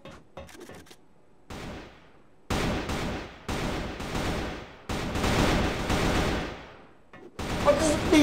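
Bursts of gunfire in the first-person shooter Crossfire during a Crossfire Allstar grand final match, loud rapid volleys in several long stretches with brief gaps and a few faint shots at the start.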